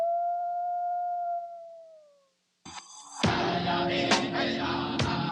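A single long, clear wolf howl that slowly falls in pitch and fades out, followed by a burst of unrelated loud music.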